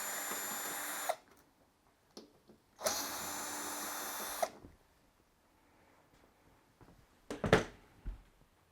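A power drill backs screws out of the valves on an LG washing machine, two sustained whirring bursts of about a second and a half each, fairly close, followed by a short louder clatter near the end, with no talking.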